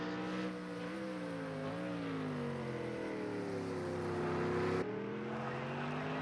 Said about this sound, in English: There's Philly doing some burnouts.